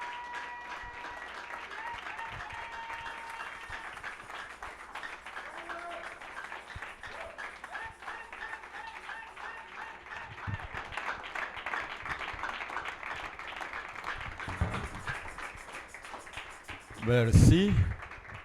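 A church congregation applauds a pastor, a steady wash of many clapping hands running throughout with a louder burst near the end, as voices carry under and over the clapping.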